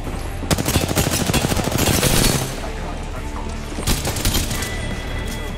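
Bursts of rapid automatic gunfire crackle loudly in the video game Apex Legends, a dense volley of shots for about two seconds and then a shorter burst after a pause.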